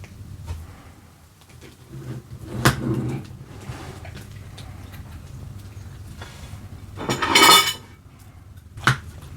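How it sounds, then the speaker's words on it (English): A golden, crispy sausage and tomato pie is lifted out and served onto a plate, with scraping clatters of utensil and dish, a sharp knock early on and a louder scraping burst near the end. "Let's get it out onto a plate."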